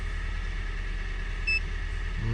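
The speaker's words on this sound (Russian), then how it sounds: "Да, стучит отлично." Close up, the knocking G4NA engine of a 2014 Kia Sportage 3 runs steadily at idle for a couple of seconds, with no voices.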